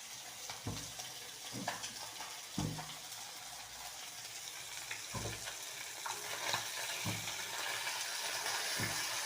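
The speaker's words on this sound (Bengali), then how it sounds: "ততক্ষণে মাছটা একটু ভেজে নেব" Fish frying in a pan while a pot nearby comes to a boil, a soft continuous sizzle punctuated by several distinct scraping knocks of a spatula at irregular intervals, fairly quiet and close.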